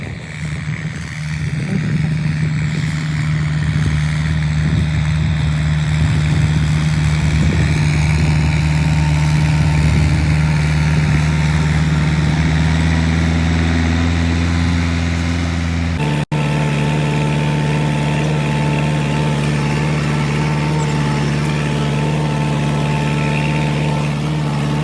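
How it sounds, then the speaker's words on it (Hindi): A Farmtrac 6055 tractor engine runs with a harrow in a farm field, a loud, steady diesel drone with a constant low throb and a slight shift in pitch partway through. "देखा भाई किस तरह का चल रहा है ट्रैक्टर"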